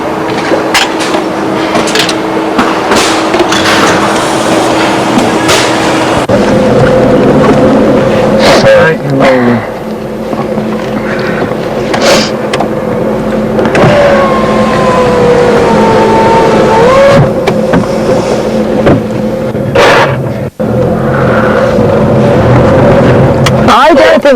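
A car engine works up through the gears, revving and then dropping back with each change, loud and steady over a long stretch with voices talking over it.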